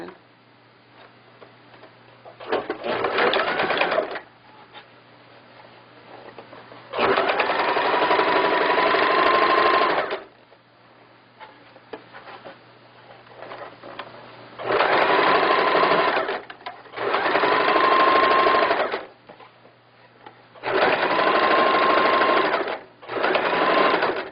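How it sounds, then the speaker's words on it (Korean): A sewing machine runs a decorative stitch along a floral skirt in five or six loud, steady bursts of several seconds each, separated by short pauses with quieter handling sounds. "이렇게 스테치 박음질 하였습니다."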